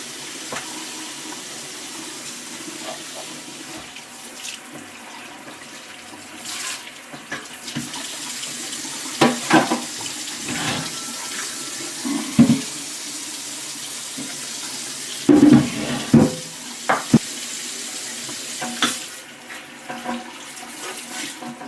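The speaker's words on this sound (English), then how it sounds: "I'm washing. I want to get all that." A rusty griddle is washed under a running kitchen tap, giving a steady stream of water with scattered clanks and splashes as the metal is moved and scrubbed close by.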